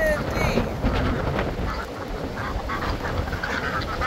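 Silver Appleyard ducklings quack repeatedly outdoors on a windy morning, their calls mixed with gusting wind noise on the microphone.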